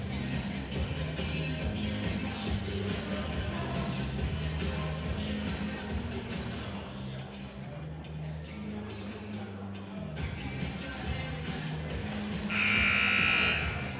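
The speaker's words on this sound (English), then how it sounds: "And there is the buzzer." Basketball game buzzer at a girls high school game in a gym, one short loud blast near the end, after a steady stretch of crowd noise and murmur.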